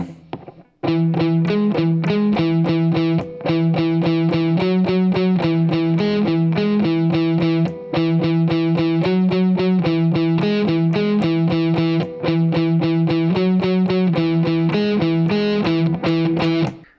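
A distorted electric guitar chugs a steady, repeated riff at a slow, even pace, loud and close, with brief gaps between phrases.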